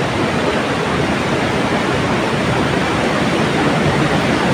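A loud, steady torrent of water surges over the old Wawa Dam in Montalban, Rizal, Philippines, a dense roaring wash heard up close without pause or talk.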